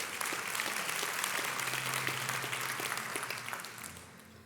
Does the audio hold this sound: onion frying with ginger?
no